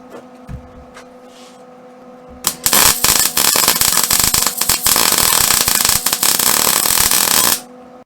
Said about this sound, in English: I'm going to weld on this side, just a heavy bead of weld right here, and it'll shrink it back.